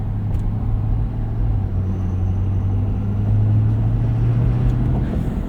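Steady low diesel rumble from a 2023 Ford F-250 King Ranch Super Duty's 6.7-liter turbo diesel V8 while driving, a constant deep drone with faint road noise.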